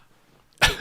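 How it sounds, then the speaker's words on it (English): A single sharp human sneeze bursts out loud and close after a moment of near silence, indoors during a spoken discussion. "I'm going to sneeze."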